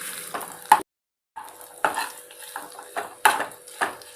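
Soaked soya chunks fry in a pan, with spoon stirring and metallic scrapes coming in irregular clatters over a light sizzle, close and clear with a short silent gap.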